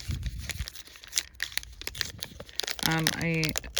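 Large paper envelopes from a Mattel Polly Pocket Unicorn Partyland toy are handled and opened with close crinkling and tearing rustles, and a voice briefly speaks near the end.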